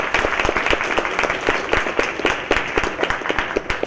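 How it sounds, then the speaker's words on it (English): An audience at a museum talk gives continuous applause, a dense, steady patter of many hands clapping indoors with no voices over it. "I hope that you will join me in a huge round of applause"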